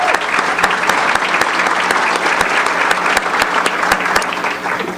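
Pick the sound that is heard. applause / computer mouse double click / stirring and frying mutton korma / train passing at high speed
applause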